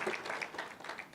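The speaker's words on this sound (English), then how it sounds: "May we give him a round of applause?" A short burst of audience applause at a financial conference session, a soft, somewhat distant patter of clapping with no talking over it.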